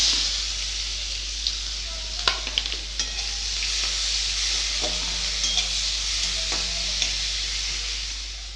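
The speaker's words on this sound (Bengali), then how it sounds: "চারটা শুকনো লঙ্কা দিচ্ছি কুঁচানো পেঁয়াজ" Dried red chillies and chopped onion frying in hot oil, a steady broad sizzle with occasional stirring clinks and scrapes, close and continuous throughout.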